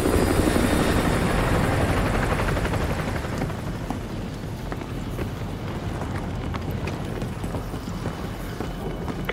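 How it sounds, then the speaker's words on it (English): Enemy helicopter in Call of Duty: Modern Warfare 2 Remastered, a steady loud rotor drone that is strongest at the start and then settles into a continuous whir, with no talking. "Enemy helo patrolling the perimeter."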